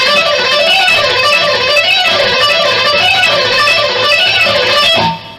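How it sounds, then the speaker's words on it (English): An overdriven electric guitar plays rapid scale runs that alternate four-note and six-note groupings up and down, a dense stream of fast picked notes ending sharply, loud and alone. "If you do 4 notes up and down and then 6 notes up and down, that's going to sound like this"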